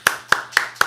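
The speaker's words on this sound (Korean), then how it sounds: "박수로 환영하겠습니다." Hands clap to welcome a guest on a studio talk show about the economy, four crisp separate claps in under a second, close and clear with no voices.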